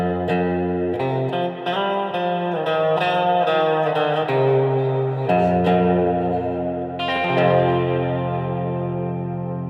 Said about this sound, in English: I think it's a good sound of reverb